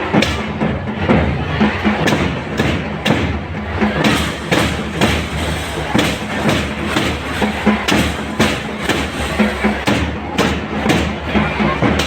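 Applause from students and guests at a DAV Public School ceremony in Darbhanga, a dense, steady patter of many hands clapping for about twelve seconds with occasional thumps and crowd noise mixed in.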